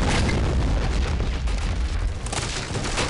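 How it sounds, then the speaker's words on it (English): Heavy 203mm B4M mortar fire and blasts in the video game Men of War: Assault Squad, a dense, loud rumbling wall of booming explosions sustained throughout with no talking. "Love that mortar."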